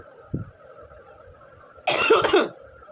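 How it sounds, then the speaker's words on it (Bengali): A person coughs heavily: one short cough early, then after a pause a loud, harsh burst of several rapid coughs up close. "প্রচণ্ড কাশি হয়েছে"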